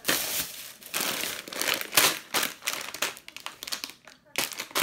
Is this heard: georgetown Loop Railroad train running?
no